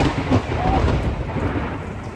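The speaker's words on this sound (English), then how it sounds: "Dang, that was some frickin' thunder." Loud thunder from a nearby storm rumbles on in a deep, rolling roar that lasts the whole moment, with faint rain hiss behind it.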